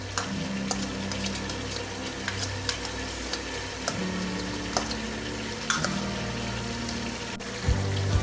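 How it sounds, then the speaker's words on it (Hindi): Mutton fries hard on a high flame with ginger garlic paste, sizzling loudly and steadily up close, with intermittent scraping and stirring clacks against the pan. "अब मैं इसमें जिंजर गार्लिक पेस्ट ऐड कर दूंगी और अब इसके साथ भी 2 मिनट इसको भून लूँगी"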